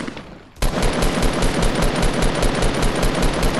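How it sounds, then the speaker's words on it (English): Rapid automatic gunfire in a Fortnite match erupts abruptly after a brief lull and then continues as a loud, dense burst of shots. "Who's shooting?"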